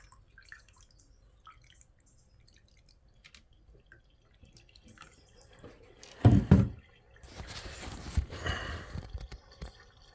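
Water forced down the drain of a newly installed shower tray after a bath removal, heard as a loud rushing splash for about half a second, then a steadier running pour lasting a few seconds, with faint drips before.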